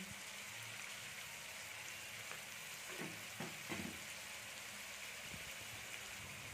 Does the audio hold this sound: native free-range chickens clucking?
no